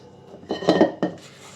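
Banana cake batter of flour and mashed banana being mixed in a bowl, with a few quick scraping and clinking strokes of a utensil against the bowl, close and moderately loud.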